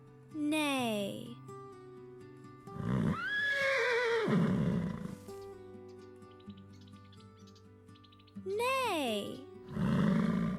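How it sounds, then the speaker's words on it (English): Horse neighing in a farm setting, several loud quavering whinnies heard in separate bursts, close and prominent, with other tonal sounds between them. "Horse says neigh."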